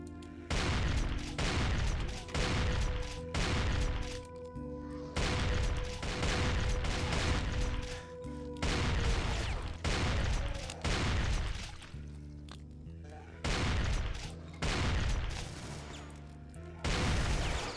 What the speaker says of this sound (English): Fucking chain gunners galore.